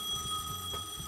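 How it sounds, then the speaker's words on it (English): A telephone rings steadily with a thin, continuous trilling tone, clear over a low background. "The phone rang."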